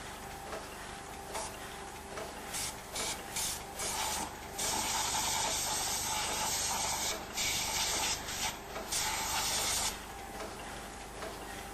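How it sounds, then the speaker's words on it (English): Compressed air blowing leftover spray powder residue out of a printing press powder bowl, a steady close hiss that rises and falls in short bursts over faint mechanical ticking. "Compressed air is then used to remove any residue."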